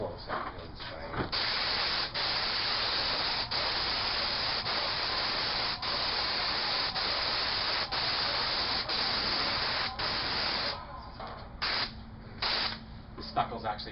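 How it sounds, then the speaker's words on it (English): Paint sprayer laying an accent color onto previously painted stucco trim, a loud, continuous airless hiss that runs for about ten seconds with brief dips between passes, then cuts off into short bursts and quieter handling sounds. "when I'm actually spraying, stand back so you can see the whole thing spraying"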